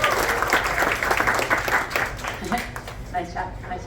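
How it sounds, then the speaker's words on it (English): Applause from an audience rewarding students after a classroom play about the American Revolution, a steady wash of clapping mixed with speech and voices throughout. "Well done. Give a round of applause."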